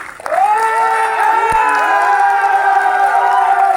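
Audience at an annual company program in Delhi bursts into cheering and applause, loud sustained shouting and whooping voices over clapping that continues steadily.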